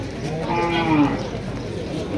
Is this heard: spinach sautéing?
no